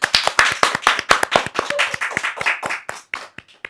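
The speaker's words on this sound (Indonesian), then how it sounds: "Tepuk tangan dong, ada tepuk tangan." A small audience claps in a quick, uneven series of sharp nearby hand claps that thin out toward the end, with no talking over them.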